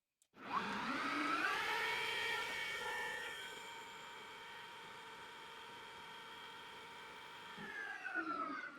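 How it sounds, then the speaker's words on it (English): A lathe spindle spins at 3000 RPM while a monocrystalline diamond tool machines a cast piston for a 1920 Redrup Radial replica. It gives a steady, close whine with layered harmonic tones, louder over the first few seconds and then holding an even level. "For this I'm going to max out my spindle RPM, 3000."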